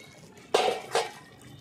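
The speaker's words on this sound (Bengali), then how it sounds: "ভালো করে আমি মিশিয়ে নিচ্ছি।" Shukto, a Bengali vegetable curry of banana, eggplant, drumstick, papaya, bitter gourd, potato, beans and milk with ghee, stirred in a pot: two brief scraping, clinking strokes of a utensil against the pot, close and otherwise quiet.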